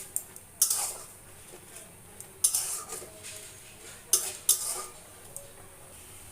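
Oil-free chicken curry being stirred with salt in a pot: several sharp spoon-on-metal scrapes and clinks at irregular intervals over a quiet background, with only a faint sizzle.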